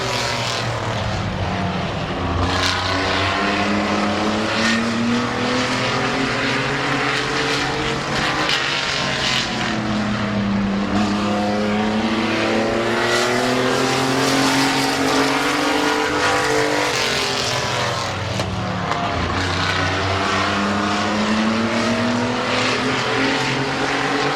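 Race cars lap Midvale Speedway, their engines a continuous loud roar whose pitch rises and falls as cars accelerate, pass and fade around the track, with several engines overlapping throughout.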